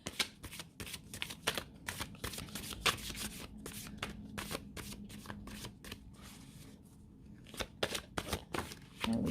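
Oracle cards being shuffled by hand, a steady run of soft riffling flicks and slaps close by across the whole stretch, with no voice over them.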